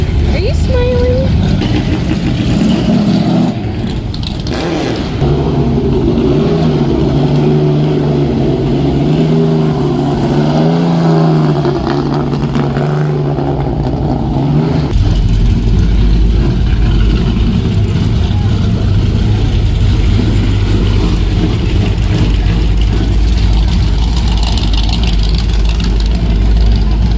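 A race car at a car show idles with a loud, steady engine rumble that continues throughout, and people talk over it partway through.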